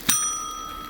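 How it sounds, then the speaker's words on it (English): A champagne push bell meant for a bar cart gives one bright, sharp ding that rings on in a clear, slowly fading metallic tone, heard close and alone. "I got the cutest bell, pressed for champagne bell"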